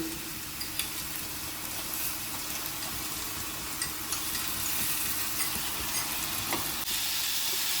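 Small chopped chicken pieces sizzling steadily in a hot pan with onions, a continuous broad hiss with faint clinks and stirring scrapes, close and even throughout with no talking.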